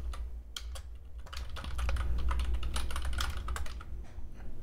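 Close, quick keystrokes clatter on a computer keyboard for several seconds in an irregular typing rhythm, with no one speaking.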